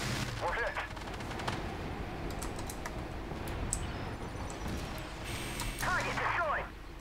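Rapid autocannon bursts from a T249 Vigilante tank in the online game Armored Warfare, dense crackling fire in two clusters over a continuous engine rumble, with a voice talking.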